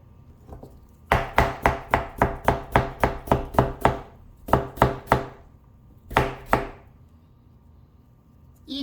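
A knife chops radish on a cutting board in a quick run of about a dozen sharp, evenly spaced strokes, then a few shorter bursts, close and clear with no talk.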